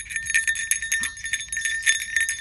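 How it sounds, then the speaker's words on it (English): Small bells on festive hats jingle brightly in quick, irregular clusters, close and fairly loud, with no voices over them. "did you hear the bells on their hats ringing?"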